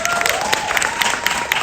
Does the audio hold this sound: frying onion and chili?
no